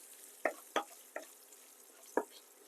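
Rice with salt and turmeric being stirred in a pan for raw mango rice: four distinct scraping knocks of a spoon against the pan over a faint background hiss, quiet and close, no voices.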